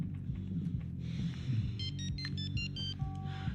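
A telephone rings in short electronic bursts, fairly quiet beneath a low background hum and murmur, with no talk over it.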